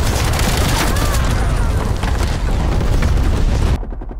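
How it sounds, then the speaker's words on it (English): Napalm strike explosions in Call of Duty Black Ops Cold War multiplayer, a dense, continuous roar of booming blasts and crackling fire that stays loud for nearly four seconds before cutting off abruptly. "Napalm strike inbound."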